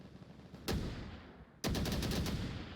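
Gunfire in the VR shooter Onward during a VRML league match comes as one sharp shot and then, a second later, a fast rattling burst, both loud and close.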